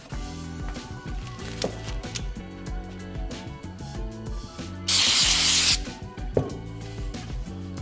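A single burst of hand cleaner from a spray bottle hisses for under a second at a motocross mechanic's workbench, rising over steady background music.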